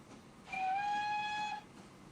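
A locomotive whistle sounds from a train in the video game Transport Fever 2, a single steady tonal blast lasting about a second over quiet rolling rumble.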